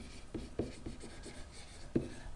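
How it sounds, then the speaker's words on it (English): Marker writing words on a classroom board during a maths lesson: a handful of short, quiet scratchy strokes spaced irregularly, close by, with no talk. "I probably should write the words find the volume"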